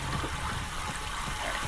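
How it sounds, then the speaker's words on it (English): Pipe water flowing in Myst Remake, a constant watery rush with faint bubbling and gurgling, steady and moderately loud throughout. "Thank you, pipe water flowing."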